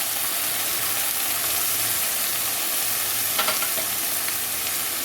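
Ginger and cumin paste fries in a pan for chital fish kalia, giving a loud, continuous, even sizzle with a brief burst of sharper spattering partway through.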